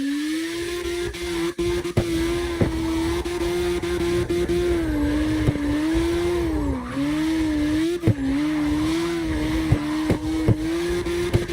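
Several drifting cars in the CarX Drift Racing Online video game, a three-car tandem, produce a continuous loud engine drone with wavering pitch and steady tire squeal, punctuated by brief sharp clicks, with no talking.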